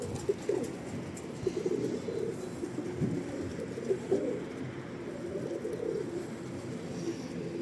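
Pigeons coo and flutter as they land close by outdoors, a low steady murmur of soft cooing with a few brief louder wingbeats or bumps scattered through, no voices.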